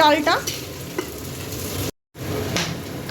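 Onions fry in a pan for a daal recipe, a steady close sizzle with stirring scrapes throughout, a brief silent gap near the middle.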